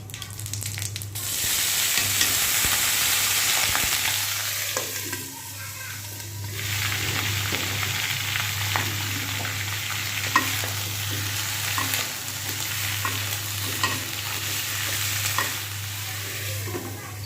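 Vegetables frying in a pan for a Bengali fish curry, a steady close sizzle and stir with a low constant hum beneath, lasting throughout with occasional utensil scrapes.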